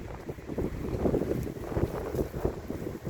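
Gusty wind buffets the microphone in uneven low rumbles and rushes, loud and close, with no voices heard.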